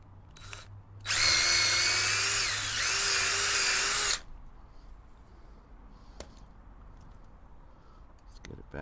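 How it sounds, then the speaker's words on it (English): A power drill whirs loudly for about three seconds drilling a pilot hole in wood, briefly dipping in speed midway, then stops, leaving quiet room noise and a few small clicks. "we should have enough room to drill the pilot hole a little bit more"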